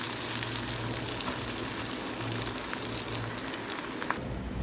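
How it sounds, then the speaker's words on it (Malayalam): Onions frying in a pan for chilli fish fry, a steady close sizzle and crackle that holds without a break, with faint stirring under it and no voices. "എന്നിട്ട് ഇതും കൂടെ ഇതിലേക്ക് പൊരിച്ചെടുക്കുന്നത്."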